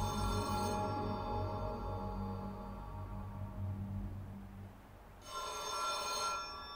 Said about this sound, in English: In the distance, you can hear the faint sound of a telephone ringing.